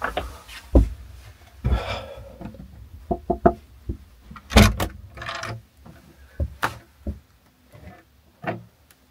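The second wooden door of the Konchento mountain shelter in Pirin is opened, with irregular knocks, bumps and creaking thuds scattered across a quiet room.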